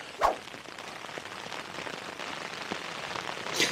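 Rain patters steadily at a riverside fishing spot on a winter day, a dense continuous hiss with a few sharper drops and taps standing out near the start and end.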